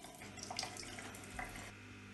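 Water drains steadily from a birth pool as a pump empties it, a faint continuous trickle and gurgle with small splashes, heard alone without talk.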